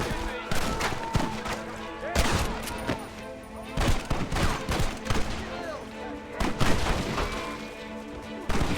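Dense gunfire in the Red Dead Redemption video game, with rapid overlapping shots and booming reports in bursts, loud and close, while voices shout over the shooting.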